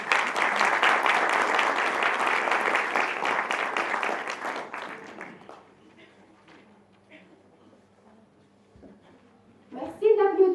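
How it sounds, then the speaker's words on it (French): Conference audience applauding after a welcome speech, sustained loud clapping from many hands that fades out over about six seconds, then a near-silent room before a voice begins speaking. "Merci d'applaudir."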